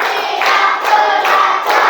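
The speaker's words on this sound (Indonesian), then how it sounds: "tepuk satu, tepuk dua, tepuk tiga, tepuk empat, tepuk lima" A class of students claps in a counted rhythm, with loud, close bursts of rapid clapping in several groups separated by short pauses.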